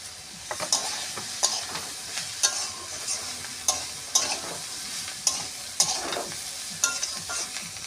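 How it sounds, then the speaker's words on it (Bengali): Water spinach greens sizzling in a frying pan with green chilies, stirred in a steady series of scraping strokes over a continuous hiss of hot oil, close and fairly loud with no talking. "দিয়ে একটু নেড়ে চেড়ে শাকটা দিয়ে দেব শাকগুলো দিয়ে দিলাম"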